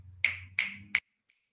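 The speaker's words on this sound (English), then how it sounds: "we don't clap, we snap. That's how we show appreciation." Three crisp finger snaps in quick succession, about a third of a second apart, with a fainter fourth tick after them, close and clear over quiet background at a poetry reading.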